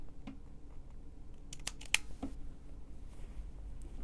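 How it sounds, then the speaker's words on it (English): Stitches on Japanese fabric are cut with a seam ripper, giving a few faint, quiet snips and sharp little clicks close by, bunched around the middle of a mostly hushed stretch. "we're gonna need to seam rip you"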